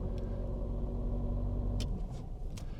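A manual-transmission car pulling away uphill, with a steady, close low engine rumble that drops off near the end.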